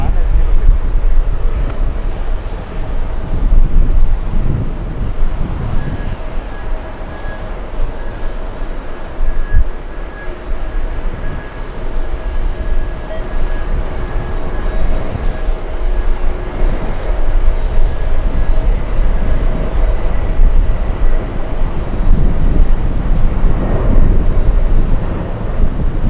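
An Etihad airliner taxiing past with its jet engines producing a loud, steady roar and a faint high whine, heard from nearby at the airport along with wind buffeting.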